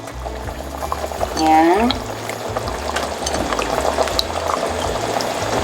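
Potatoes tumble into a simmering pot of beef kaldereta with a short splashing plop, over a steady bubbling and sizzle, while someone talks over the cooking.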